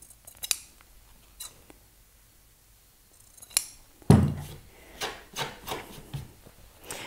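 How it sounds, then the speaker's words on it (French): Sharp snips of scissors cutting through fabric, a few isolated clicks followed by a run of rhythmic crunching cuts, close and clear. "j'ai pas des ciseaux très discrets, mais ils coupent bien"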